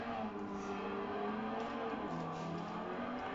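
Race car engine in Gran Turismo 7 droning steadily, its pitch rising and shifting as it accelerates, quiet and continuous throughout the clip.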